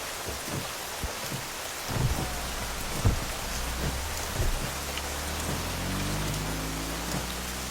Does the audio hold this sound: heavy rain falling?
yes